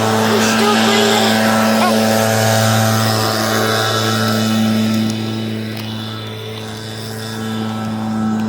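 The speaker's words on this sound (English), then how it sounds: "Did you saw that, Mommy? A garbage truck." A recycling garbage truck drives past outdoors, its steady engine drone and hum rising loud and near, then easing off as it moves away, with a voice speaking over it.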